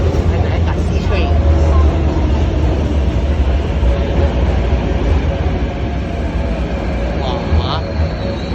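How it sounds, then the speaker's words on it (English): An MTR C-train runs through Kowloon Bay, Hong Kong, with a loud, steady rumble and rolling hum continuing throughout, while passengers talk over it nearby. "The first C train."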